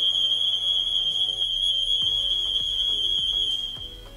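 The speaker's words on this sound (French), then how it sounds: "je vais arrêter de faire sonner l'alarme" A Qiara home alarm system siren sounds as a steady, piercing high electronic tone held loud and continuous, with faint clicks and a lower hum underneath, fading near the end.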